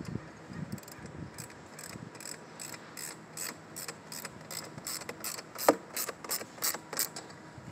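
A Wheeleez beach cart fitting is tightened, producing a quick run of sharp, regular ratchet clicks at close range. The clicks are quiet and clear with nothing else under them.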